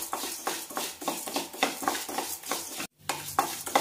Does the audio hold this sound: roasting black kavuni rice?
yes